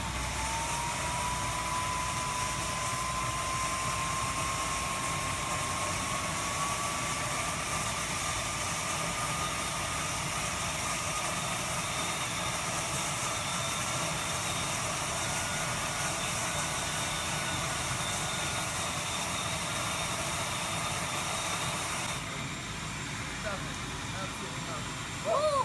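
A homemade turbine-driven furnace spools up, a steady loud roaring whine with a tone slowly rising over the first seconds, then holding a constant broadband rush until it shifts abruptly near the end.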